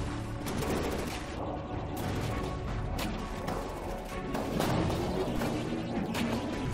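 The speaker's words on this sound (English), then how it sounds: "Every shot is falling short from that main cannon there." A vehicle's main cannon fires repeatedly during a From the Depths battle, a rapid irregular series of sharp cracking shots and thuds over constant rumbling combat noise.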